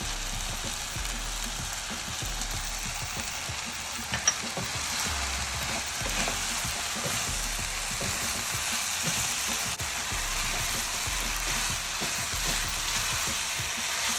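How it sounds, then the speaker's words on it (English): Chinese fried rice with soy sauce sizzles steadily in a pan while being stirred, with soft scraping and tossing strokes recurring at an even, unhurried rhythm, close and moderately loud, no talking. "I'll stir in the remaining rice."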